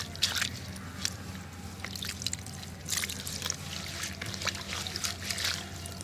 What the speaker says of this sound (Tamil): நல்லா மூழ்கிற அளவுக்கு தண்ணி ஊற்றணும்.